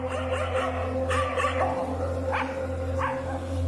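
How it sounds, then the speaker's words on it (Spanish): A pack of dogs barks in a steady cluster, several sharp barks and yips rising over a constant low hum, moderately close, with no talk. "Más perros se unieron a aquella jauría que ladraba sin cesar"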